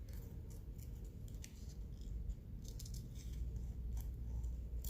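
Scissors fussy-cutting a printed paper image for altered wooden nickels, a series of small, close snips and crisp paper rustles, quiet and steady over faint room noise.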